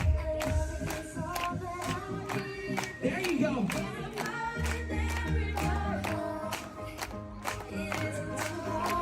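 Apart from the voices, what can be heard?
audience clapping along to the beat of the music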